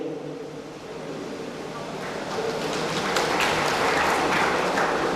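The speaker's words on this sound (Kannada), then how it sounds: "ತುಂಬ ಚಪ್ಪಾಳೆ ಹೊಡಿಬೇಡಿ." Audience at a school grant ceremony breaking into applause, the clapping swelling from a moderate patter to a louder, dense wash of many hands in a hall.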